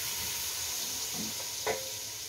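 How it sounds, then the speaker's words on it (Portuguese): Onion and sausage fry in a pan for a homemade soup, giving a faint, steady sizzle with a few small pops and crackles. "Minha cebola e minha linguiça já fritou, tá?"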